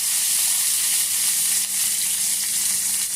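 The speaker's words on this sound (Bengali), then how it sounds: "এবারে তেলের মধ্যে আমি দিয়ে দিলাম ফোড়ন, দালচিনি, লবঙ্গ, ছোটো এলাচ, আর কিছু কারি পাতা।" Cinnamon, cloves, cardamom and curry leaves sizzle in hot oil, a dense, continuous, close hiss that stays loud and even throughout.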